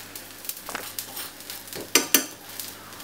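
Sweetcorn fritters frying in vegetable oil in a pan, a soft crackling sizzle with a few sharp close clinks of a utensil against the pan, no talk.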